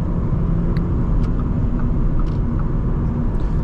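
A 2022 Audi S5 3.0T Sportback launches hard and accelerates, its turbocharged engine giving a dense, steady roar close by, with faint clicks and a couple of brief shift blips over the rumble.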